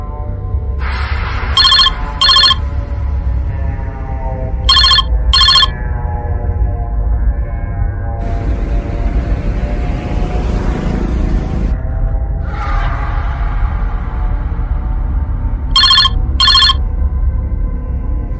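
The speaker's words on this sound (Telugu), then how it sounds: "చాలాసేపటి నుంచి మీకు ఫోన్ వస్తుంది, చూడండి" A mobile phone rings inside a moving car in repeated paired bursts of a bright electronic ringtone, heard three times over a steady low engine and road rumble, with no one speaking.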